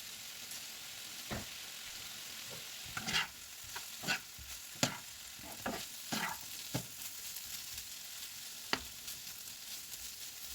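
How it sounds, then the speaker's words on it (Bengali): Pumpkin with black cumin fries gently on medium-low heat, a soft, quiet sizzle with scattered spatula scrapes and clicks against the pan. "আমি আবার একটু ভেজে দিচ্ছি একদম মিডিয়াম লোতে আছে"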